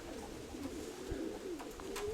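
Domestic flying pigeons, among them a grey hen, coo softly in a loft: a low, continuous run of gentle rolling coos with no one talking.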